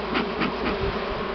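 Dense, steady buzzing of many honeybees up close at a hive with combs, a continuous hum with slight pulsing swells.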